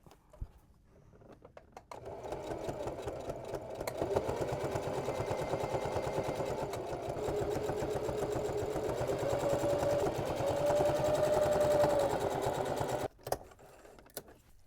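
A domestic sewing machine runs steadily while top stitching down the edge of a fabric drawstring for a gift tote, a continuous close motor whir lasting several seconds before it stops abruptly.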